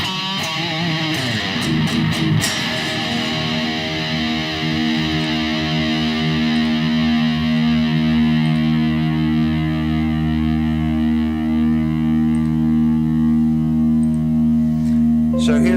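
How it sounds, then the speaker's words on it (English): Electric guitar played through a modeled distortion amplifier, a loud, sustained saturated chord ringing out with a thick buzzing tone after a few quick strummed attacks, heard alone. "So here's our modeled distortion sound."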